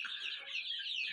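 A rooster in a new chicken coop lets out a soft, drawn-out clucking call lasting about a second, faint and somewhat distant, alone with no talk.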